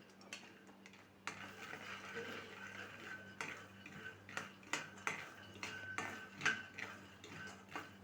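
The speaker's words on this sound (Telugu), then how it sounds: "మధ్య మధ్యలో ఇలా కలుపుకుంటూ పల్లీల పైన ఉన్న పొట్టు కొంచెం సపరేట్ అయ్యేంత వరకు వేయించుకోవాలి" Peanuts roasting in a kadai on low flame rattle and tick as they are stirred now and then, a quiet series of light clicks and scrapes over a low hum.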